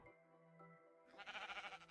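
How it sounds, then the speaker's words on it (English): Sheep bleat in a heavily modded Minecraft world, the Project Ozone 3 modpack, with several loud wavering bleats overlapping in a dense pulsing burst after a quieter stretch of game tones. "they're all sheep."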